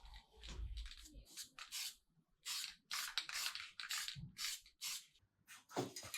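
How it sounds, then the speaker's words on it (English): Etch primer sprayed from an aerosol can onto a motorcycle part from a 2003 KTM 250 SX, a series of short close hissing bursts separated by brief pauses. "Put some paint on that now. You won't even know the difference. A bit of Etch primer first."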